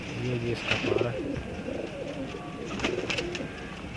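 Blue kamgar pigeons give low, close coos in short bursts, with light background murmur.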